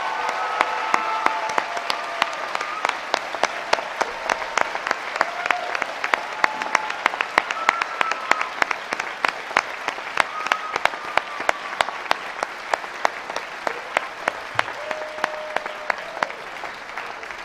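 Sustained crowd applause for the graduating class of 2021 at a Manchester University commencement, dense and even clapping from a large audience with sharp nearby claps standing out, lasting the whole stretch with no speech.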